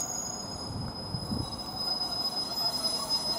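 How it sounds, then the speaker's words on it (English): A Northern train runs from Saltburn to Darlington at Thornaby station, a low steady rumble with a thin, sustained high wheel squeal running over it throughout. "Now this northern train now departing, which is the 1031 from Saltburn to Darlington."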